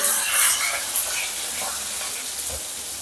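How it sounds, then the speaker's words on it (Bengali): Hot oil spatters and sizzles steadily in a pan of vegetable curry with potato, beans and eggplant just after chillies are added, a continuous close crackling hiss. "এত পরিমাণে তেল ছিটিয়ে আছে লঙ্কা দেওয়ার পরে"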